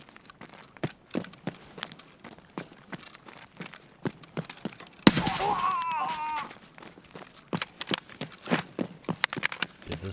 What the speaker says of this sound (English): This gun's so nuts.